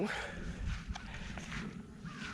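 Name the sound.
dog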